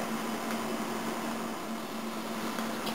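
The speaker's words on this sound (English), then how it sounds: "I have 1/4 cube of butter in my pan over here over medium-high heat. You can hear it sizzling." A quarter cube of butter sizzles steadily in a pan over medium-high heat, a continuous close crackling hiss with no pauses.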